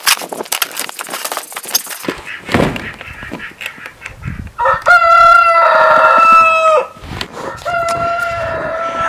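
Loud, close poultry noise from backyard chickens in deep snow: scattered clucks and squawks, then a long, strident rooster crow, followed by more calling from the birds.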